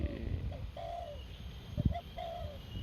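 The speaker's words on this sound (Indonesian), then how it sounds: "Kita siang ini mencari burung tekukur atau hunting burung tekukur ya di persawahan" Spotted doves cooing in rice fields at midday, soft low hooting phrases repeated several times at moderate distance over a steady rural background hum.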